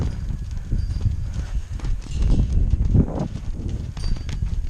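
A weanling colt walks with its hooves clip-clopping in an irregular rhythm at close range, and soft rustling and movement noise accompany the steps.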